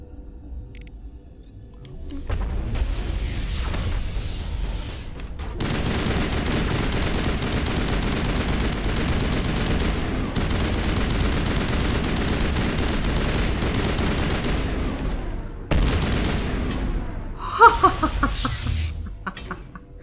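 Enemy guards open fire in Mass Effect on Noveria, a sustained stretch of automatic weapon fire and battle noise after a quieter start, with a few sharper impacts near the end.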